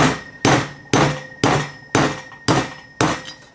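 A single lip seal is driven into a Saginaw 800 power steering gear box with seven firm, evenly spaced hammer blows, each a sharp metallic strike with a short ring, heard close with no talking.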